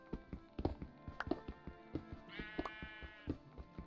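A Minecraft sheep lets out one wavering bleat midway, over a steady rhythm of light tapping footsteps that continue throughout, with no speech.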